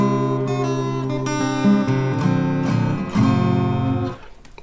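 A new guitar played out of tune, strummed chords ringing with sour, clashing pitches, a few loud sustained strums that change shape and fade out at the end, with no talking.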